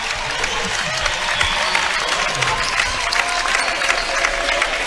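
Applause from the crowd at a high school boys' basketball game in a gym as players are recognized, steady clapping with crowd murmur and faint voices underneath.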